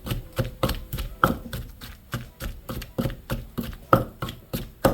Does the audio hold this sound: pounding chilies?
yes